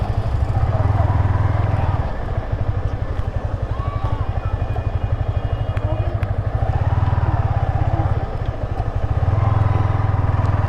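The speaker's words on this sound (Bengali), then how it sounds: "বাইক নামাইলে যে বালু, চাকা খালি স্কিড করবে, বার্ন আউট মারবে এই জায়গায় বালুতে।" A motorcycle engine runs loud and steady with a continuous low drone and pulsing throb throughout, on a sandy stretch during a long bike tour from Sajek to Cox's Bazar.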